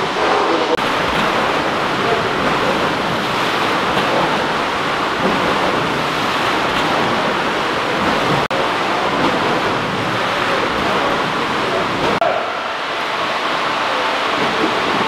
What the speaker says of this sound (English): That's the water coming in now.